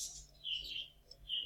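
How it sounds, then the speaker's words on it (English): Pet birds chirping outdoors on a deck, giving faint, high, repeated tweets and short calls scattered across the moment with no one talking. "You might be able to hear my birds in the background"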